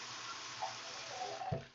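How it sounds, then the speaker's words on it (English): Water runs steadily from a tap into a container as 32 ounces are measured out, a faint, even broadband gush lasting throughout, with a small clink near the end. "I'm going to put 32 ounces of water in my container"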